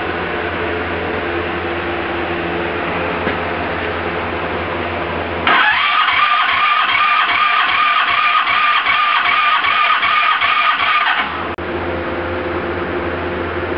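An original-owner Honda engine with freshly adjusted valves cranks over during a compression test, a loud rhythmic starter churn lasting about six seconds between quieter stretches of steady background hum.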